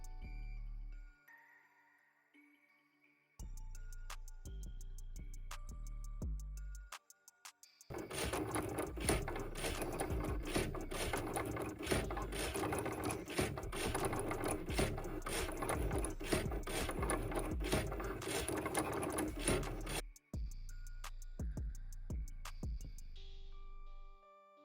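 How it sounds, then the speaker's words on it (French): A Cricut cutting machine slices cardstock with a steady, loud mechanical whirring and ratcheting that runs for about twelve seconds, framed by shorter stop-start bursts of motor movement before and after. "on peut passer à la découpe une fois que notre machine est connectée à l'ordinateur"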